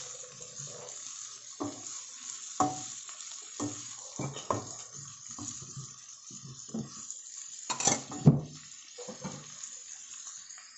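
Chop suey vegetables being stirred as they fry in a pan, with a steady sizzle under repeated scraping and clattering strokes of the utensil, close and moderately loud, no talking.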